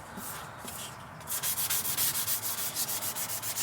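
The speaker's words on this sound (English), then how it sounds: "we're just literally going to sand down any little imperfections that are in the primer" Sanding primer on a car interior trim panel, with light rubbing at first and then a steady run of rhythmic back-and-forth sanding strokes, close and fairly loud, no talking.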